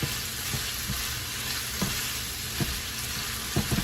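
Vegetables sizzle steadily in olive oil in a pan, a continuous bright hiss with a few soft clicks of stirring utensils.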